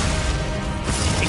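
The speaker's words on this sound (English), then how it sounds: "Glacius." A Glacius freezing spell in the game Hogwarts Legacy bursts out as a short, loud crashing impact with a dense, icy rush that fades after about a second.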